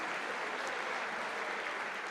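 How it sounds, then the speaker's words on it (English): Crowd applause at a squash championship, a dense even wash of clapping that continues without a break at moderate level. "she deserves a bit of applause for the way she played yesterday"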